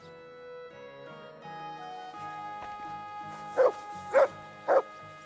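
A dog in a video game lets out three sharp, loud barks in quick succession over a steady bed of game music.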